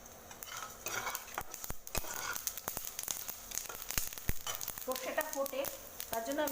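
Fenugreek and whole mustard seeds crackle in hot oil with bay leaves, a faint sizzle broken by many sharp pops and clicks, with a brief voice near the end.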